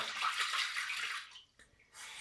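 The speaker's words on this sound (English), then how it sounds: "Add just a bit of warm water." Warm water runs from a tap during a shave with a dollar store razor, a steady hissing stream that cuts off briefly and then resumes, close and alone.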